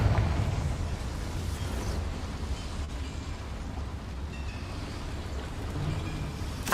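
Confringo fire spell blast in Hogwarts Legacy, a loud, sustained rumbling explosion with a roaring, crackling body that holds steady throughout.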